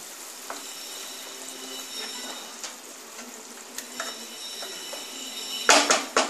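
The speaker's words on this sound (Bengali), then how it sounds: "এবার মাছটা দিয়ে দিলাম" A hilsa fish head is dropped into a simmering tamarind sour curry on a gas stove, bringing a steady soft bubbling and sizzle, then a sudden cluster of louder splashing and clattering near the end, with no talking.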